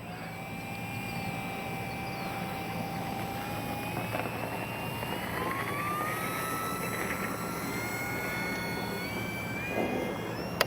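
An X-Fly Spitfire RC plane flies after takeoff, its electric motor a steady whine whose pitch slowly rises and shifts as it climbs away, continuous over a constant background hiss.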